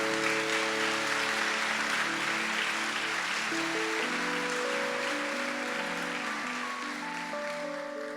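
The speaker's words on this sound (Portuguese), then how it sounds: "Dê uma forte aplauso a você." A church congregation applauds in a steady, sustained wash while organ or keyboard chords hold underneath, the clapping fairly distant and even throughout.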